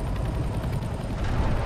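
Helicopter in a Half-Life video game mod, a loud, close rotor throb with fast rhythmic thumping over a rumbling engine roar, steady through the short stretch.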